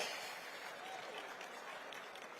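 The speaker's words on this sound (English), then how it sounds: "Can we give Reba a round of applause?" An audience claps in a dense, steady burst of applause that continues evenly throughout.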